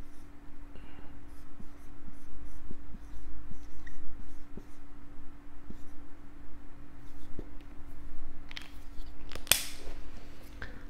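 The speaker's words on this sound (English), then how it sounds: "So let me write to you what that looks like." Handwriting on a board or paper during a Vietnamese phrase lesson: soft scratchy pen strokes with light periodic taps, fairly close, then a sharp click near the end, with no speech.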